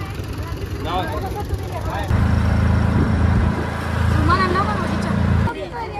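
Auto rickshaw engine putters loudly, then steadies into a close, throbbing low drone, while a family chatters over it on a picnic outing in town.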